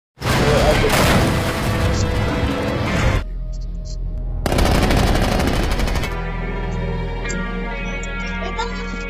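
Loud, dense bursts of rapid gunfire in two long volleys, separated by a quieter stretch, with booming impacts and a droning background.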